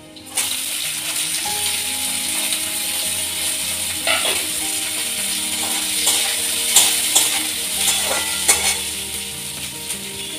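Vegetables being stir-fried with lightly browned garlic in a pan give a steady close sizzle, with irregular scraping and stirring clatter throughout and a few sharper clinks toward the end; no one speaks.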